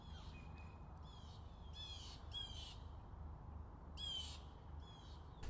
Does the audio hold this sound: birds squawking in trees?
yes